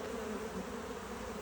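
A honeybee colony hums inside a wooden hive during a swarm transfer from a nuc to a 10-frame hive, a dense, steady drone heard close and alone.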